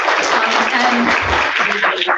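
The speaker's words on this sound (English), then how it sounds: "So if everyone could just take a second to give them a round of applause because they've worked so hard." A room full of people gives branch members a round of applause at a campaign gathering. The clapping is thick and continuous, with voices and cheering mixed in.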